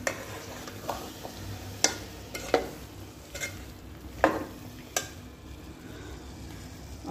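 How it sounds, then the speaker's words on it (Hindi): Potatoes cooking slowly in a covered pot on low heat in a home kitchen, with a soft steady sizzle and scattered sharp clinks of utensils against the pot at irregular intervals. "अब इसमें मैं आलू डाल के उसको दम पे जो है ना छोड़ दूँगी।"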